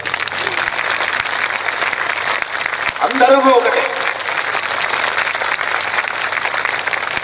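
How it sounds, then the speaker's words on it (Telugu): An audience at a SriRama Katha discourse in Solapur claps loudly and continuously, with a short spoken phrase rising over the applause midway. "గట్టిగా ఒకసారి చప్పట్లు కొట్టండి."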